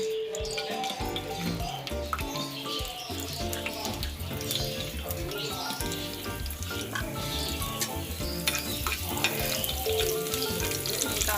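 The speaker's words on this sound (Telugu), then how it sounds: "కాస్త వేగనిద్దాం." Chopped garlic and ginger fry in hot oil, a steady close sizzle running without pause under soft stirring, with no voices.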